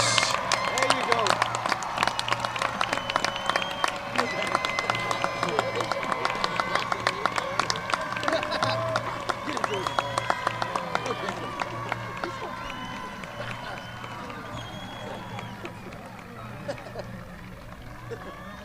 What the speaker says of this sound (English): May we all please give the newly minted class of 2019 another round of applause